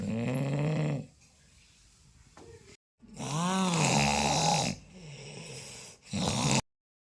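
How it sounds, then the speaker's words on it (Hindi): Loud, rasping snoring in three drawn-out bursts separated by quiet pauses, close by, each breath rumbling and rattling. "ये भयानक सी ध्वनि जो है वो मेरे पतिदेव के खर्राटों की है"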